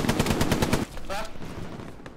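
Rapid burst of automatic gunfire in the World War II video game Hell Let Loose, a quick string of sharp shots lasting under a second, followed by quieter distant shots and background noise.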